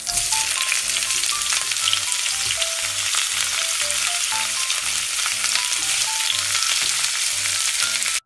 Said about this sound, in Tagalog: naglagay na nga rin ako ng mantika at magigis na nga rin ako dito ng bawang sibuyas